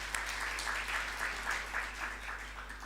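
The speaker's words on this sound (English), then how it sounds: "Please clap for these K6" An audience at an antimicrobial resistance awareness week event claps for recognised county teams, a soft, steady patter of applause over a constant low hum, with no talking.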